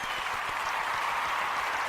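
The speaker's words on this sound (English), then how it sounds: "that deserves a huge round of applause" An audience applauding, a steady even wash of many hands clapping that holds at the same level from start to finish, with no voices over it.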